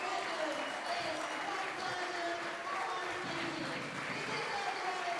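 Crowd at a women's rugby match between Exeter Chiefs and Leicester Tigers applauding a player leaving the field, a steady distant wash of clapping and crowd noise under a commentator's voice.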